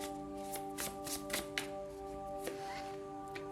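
Tarot cards being handled and shuffled during a reading, a run of soft papery flicks and slaps close by over a low steady hum, with no talking.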